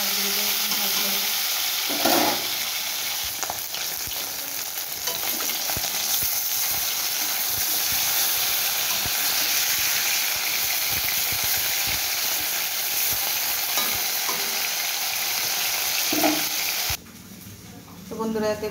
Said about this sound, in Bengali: একদম লাল লাল করে মাছগুলোকে ভাজতে হবে।